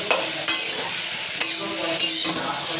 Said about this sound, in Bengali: ফুলকপি, আলু, টমেটো একসঙ্গে দেখুন ভাজা করে নিচ্ছি।